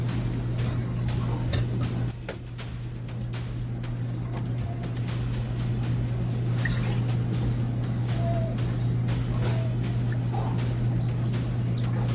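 Rendered beef tallow strained through a fine mesh strainer and cheesecloth, with steady liquid dripping and trickling close by and many small ticks and taps against a constant low hum.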